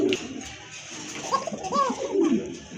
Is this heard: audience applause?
no